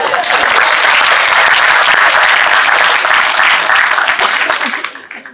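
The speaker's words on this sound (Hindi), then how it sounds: "इसके लिए मैं ताली बजा भाई" Loud, sustained applause from a crowd, steady clapping throughout that fades out near the end.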